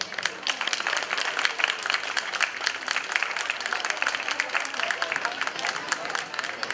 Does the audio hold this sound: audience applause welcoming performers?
yes